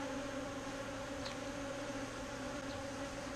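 Carniolan and Buckfast honey bees buzzing in a steady, dense drone around an open hive, faint but continuous with no voices.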